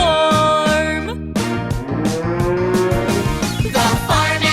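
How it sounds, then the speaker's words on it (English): A cow moos repeatedly in a children's farm song, the long lowing calls rising and falling over bouncy music that carries on throughout. "The cow on the bus goes moo, moo, moo, all through the farm."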